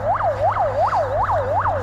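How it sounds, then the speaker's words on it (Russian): An ambulance siren yelps fast, cycling rapidly up and down, about five whoops in under two seconds, loud and close with no talking, on a street in central Yakutsk in spring. "Скорая несется."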